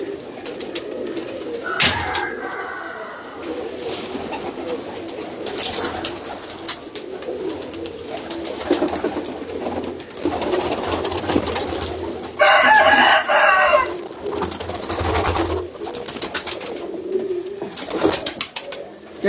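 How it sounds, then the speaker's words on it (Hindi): Pigeons coo steadily in a loft or aviary, with low, rolling calls that repeat throughout, mixed with wing flutters and scuffling. A voice is faint and intermittent beneath the birds. "पुख्ता कबूतर है जी।"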